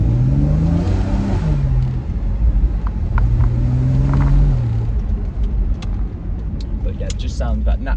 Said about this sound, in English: that naturally aspirated induction noise is just what these Porsches are known for.